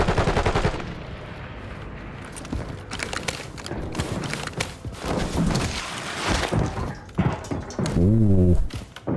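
Call of Duty Warzone gunfire: loud, rapid automatic bursts and shots crackle in clusters, with voices talking over and between them.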